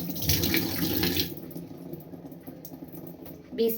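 Tap water runs at a kitchen sink while hands are washed after scrubbing dishes, a loud steady hiss that thins out midway into softer trickling and splashes, with no talking.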